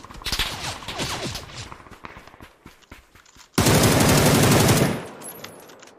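Rapid automatic gunfire in a shooter video game: scattered shots early on, then a dense, loud sustained burst lasting over a second before cutting off.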